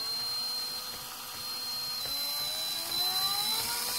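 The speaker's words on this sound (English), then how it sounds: "And I wind it up with that right there on my drill motor." Electric drill motor spinning to wind a clear acrylic mechanical clock cut on a laser from sign material, a steady whirring hum with slowly rising tones, held close and continuous throughout.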